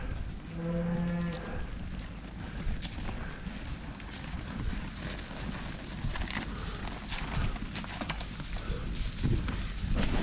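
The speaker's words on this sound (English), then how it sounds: "that's Mom over here yelling for the calf" A cow bellows a long, low moo for her calf early on, set against busy farmyard noise of cattle shuffling and hooves clopping in the pens while the herd is sorted.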